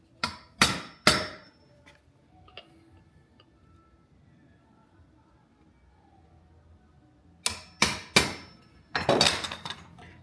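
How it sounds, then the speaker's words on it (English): A new wood chisel struck with a mallet while cutting a square hinge recess in a clamped door: three sharp blows, a long pause, then three more and a burst of rapid taps, close and loud in a quiet room. "You have your new nice chisel."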